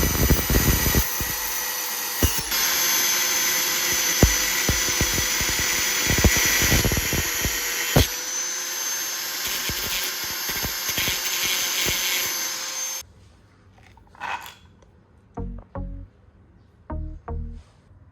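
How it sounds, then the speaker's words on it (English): A power cutting tool slices through the threaded end of a metal turnbuckle, a loud, steady high-pitched whine with grinding bursts for about thirteen seconds, then stopping, followed by scattered clanks and light handling knocks. "I'll use a cutting tool to remove the marked section."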